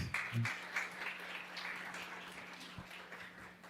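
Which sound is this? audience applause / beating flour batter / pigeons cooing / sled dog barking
audience applause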